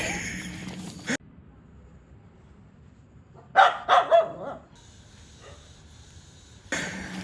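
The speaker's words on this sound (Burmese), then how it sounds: "ခွေးဟောင်းခဲပါတယ်" A dog barks three or four times in a quick cluster, fairly close, between stretches of near silence and muffled noise.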